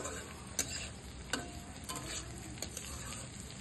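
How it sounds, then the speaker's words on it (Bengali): Cashews and raisins frying for fried rice, a steady sizzle with a few sharp clicks and scrapes of stirring, close and fairly quiet, no voices. "দিয়ে দিচ্ছি কাজু, কিশমিশ। এটা ভালো করে লাল হয়ে ভাজা হয়ে আসবে।"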